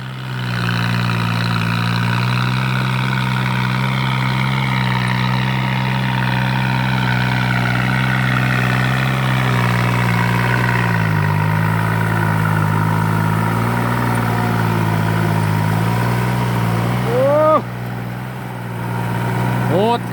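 A heavy diesel tractor engine runs steadily at close range in the rain, a loud low drone that rises briefly near the end, with faint shouting over it.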